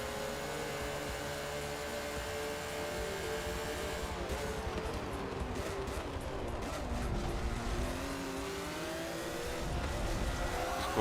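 Porsche race car in Forza 7 driving hard, engine revving and shifting through rising and falling pitch sweeps, loud and continuous with brief tyre noise, no talking.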